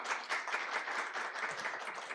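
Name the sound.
audience applause at a forum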